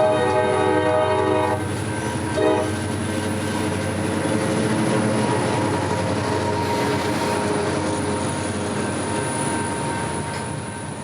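CSX freight train L712 rolling past on the Kingsland Subdivision at Norwood, a loud steady rumble of cars close by, with a sustained horn blast at the start fading under continuous wheel noise.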